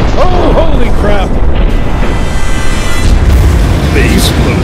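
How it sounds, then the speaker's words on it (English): An explosion in the video game Metro Last Light booms loudly and fills the whole clip, with shouted voices over it near the start and again near the end. "The explosion!"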